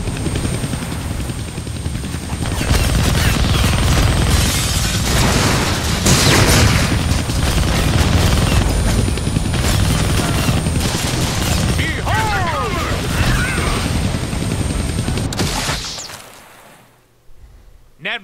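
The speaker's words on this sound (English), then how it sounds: "kill that chopper with my guns" A helicopter in the Deadpool video game churns loudly while bursts of gunfire and booms crowd the scene, a dense action mix that cuts out abruptly near the end.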